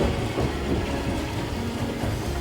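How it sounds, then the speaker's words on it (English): A train passes on a heritage railway line running through Purbeck countryside toward Corfe and Swanage, with a loud, steady rumble and rattling wheel noise that carries on without a break. "the livestock takes no notice of the passing trains"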